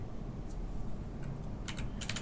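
A few quick keystrokes tap on a computer keyboard in two short clusters, faint over a steady low hum, in the game Amanda the Adventurer.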